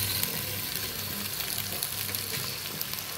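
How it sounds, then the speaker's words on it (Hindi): Minced beef keema sizzles and crackles steadily in a pan with fried onions, a continuous close frying hiss with small pops throughout. "पहले हम कीमा फ्राई कर लेते हैं अच्छे से"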